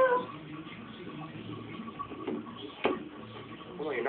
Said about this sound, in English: So this is my cat, Romo.